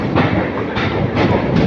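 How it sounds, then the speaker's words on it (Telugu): A MEMU express train pulling out of Kakinada Town station, loud rhythmic clickety-clack of wheels over rail joints heard from inside the carriage, with a steady rumbling roar. "సో మన ట్రైన్ అయితే కాకినాడ టౌన్ నుండి అయితే బయలుదేరిపోయింది"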